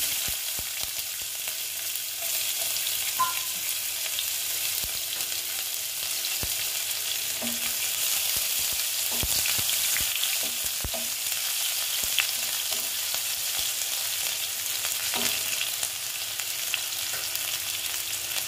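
Chopped onions and cumin seeds fry in oil for a Bengali katla fish curry, giving a loud, even sizzle throughout with scattered sharp clicks and scrapes of stirring and no voices.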